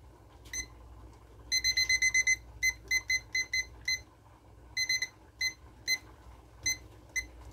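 Rapid electronic beeps from a digital timer on a pressure canner being set for a batch of butter beans, coming in short bursts and single chirps at an irregular pace, close and clear over a low hum.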